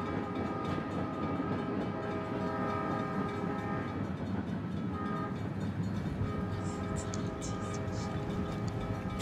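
Train at a station in Nairobi, Kenya: steady loud rumble of rail cars and engine noise with sustained horn-like tones, continuous and close, no talking.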